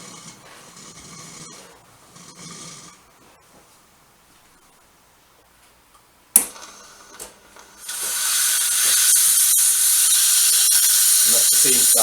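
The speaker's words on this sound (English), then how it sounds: "And that's the steam starting." The steam wand on a De'Longhi ETAM29 bean-to-cup coffee machine first gives faint mechanical murmurs and a sharp click, then bursts into a loud, steady, close hiss that continues unbroken to the end.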